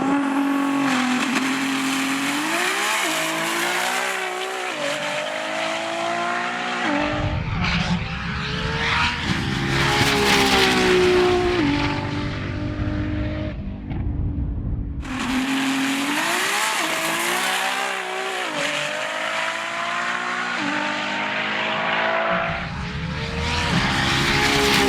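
A 1,000 horsepower Nissan R35 GTR accelerates hard, its roaring engine climbing in pitch through repeated gear changes, loud and close, with brief lulls between pulls and no talking.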